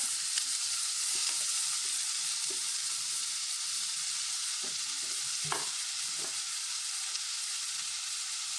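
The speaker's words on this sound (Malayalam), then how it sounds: "ഒരു മുളകിട്ടു, കറിവേപ്പില ഇട്ടു, ഈ പിണ്ടി ഇടുന്നു." Banana stem frying in a pan with chili and curry leaves, a steady loud sizzle with scattered stirring scrapes and clicks throughout.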